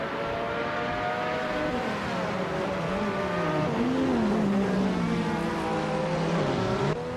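Racing video game engines roar, led by a 1983 Lancia LC1, with sustained high revving and pitch sweeping up and down as cars race, loud and continuous with no talk.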